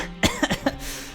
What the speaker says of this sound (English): Max starts coughing and trying to cover her face with a wing.